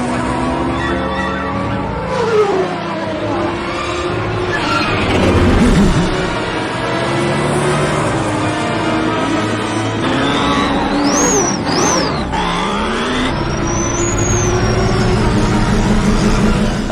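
Pod racer engines in Star Wars Episode 1: Racer roar and rise in pitch over a busy game soundtrack, with loud continuous revving and whining sweeps that surge and fall.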